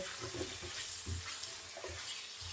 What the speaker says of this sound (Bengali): এখন আলুটা ভালো করে কষিয়ে নেব